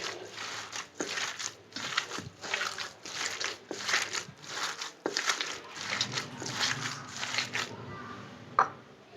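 Minced kofta meat mixed with spices is kneaded by hand, giving close, rhythmic wet squelches and squishes in steady repeated bursts with a brief pause near the end.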